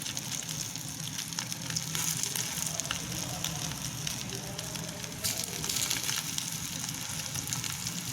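Shami nuggets sizzling and crackling steadily in hot oil in a pan, a dense continuous fry close by that swells slightly at moments, with no voices.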